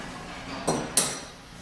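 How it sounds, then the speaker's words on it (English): A wrench gives a final tightening to a curved-shaft trimmer head, making two quick metallic clinks close by against a faint steady background. "Take our wrench, give it a final tightening"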